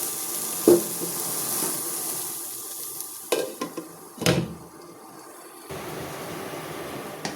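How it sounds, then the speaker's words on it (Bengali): Vegetables cooking in a small amount of oil in a pan, giving a steady soft sizzle with a few sharp clatters and stirring scrapes of a spoon against the pan, close by and with no talking. "1 চামচ থেকে 2 চামচ মতো তেল দিয়ে এটাকে আগে ভালো করে সেদ্ধ করে নেব, তারপরে আরও একটু তেল দিয়ে ভাজা ভাজা করে নেব।"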